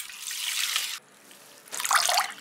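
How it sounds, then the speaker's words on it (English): Running water splashes steadily into a container for soaking rice noodles for about a second, pauses to a quiet trickle, then pours again briefly. "We soak rice noodles 5 minutes in water."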